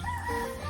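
A chicken crowing close by in one brief, drawn-out call, fairly loud against faint outdoor background noise.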